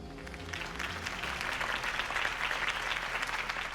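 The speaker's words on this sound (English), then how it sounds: "could have heard that applause" A crowd applauds after a mayoral campaign speech in a Batman video game, with a steady burst of clapping heard up close and alone for a few seconds.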